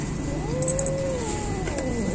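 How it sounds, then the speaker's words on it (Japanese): An angry female cat yowls in one long, wavering, drawn-out moan that rises and falls, close and fairly loud, with a few brief sharp sounds near the start. "これメス猫どうしたの、怒ってるね。"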